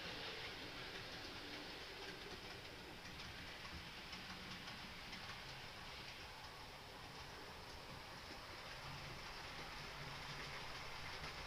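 A steady, continuous rumble and clatter of a model train running along track, even and unbroken throughout, with no voices.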